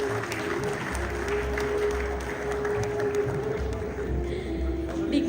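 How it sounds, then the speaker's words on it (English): Steady wash of applause from an audience at a People of Indian Origin Day celebration in Malaysia, sustained and even for several seconds over a low hum, with no distinct voices on top. "Please join me in giving them both a warm round of applause"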